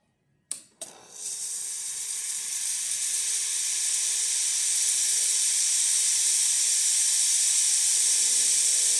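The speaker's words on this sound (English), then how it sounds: "So let's test the steam" A Breville Oracle Touch espresso machine's steam wand gives a steady, loud hiss that starts after a couple of sharp clicks and sputters, then holds continuously to the end.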